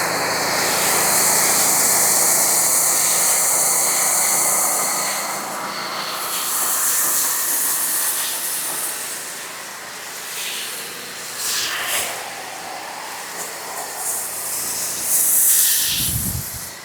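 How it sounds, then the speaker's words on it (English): A foam cannon sprays acid car shampoo onto a dirty ceramic-coated car with no pre-rinse, making a steady loud pressurised hiss that swells and eases, ending in a brief low thump. "I'm gonna go straight up foaming."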